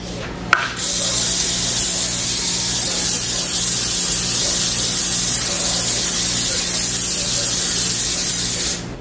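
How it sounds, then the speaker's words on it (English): Nonstick cooking spray hisses loud and close onto a parchment-lined baking sheet, one long continuous burst after a brief click of the can. "then we're going to spray that with some nonstick spray"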